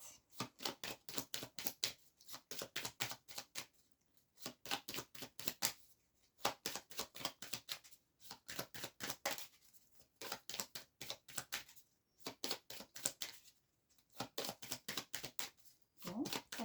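Tarot cards are shuffled over and over in quick papery riffling bursts separated by short pauses, continuing steadily throughout at a moderate, close level.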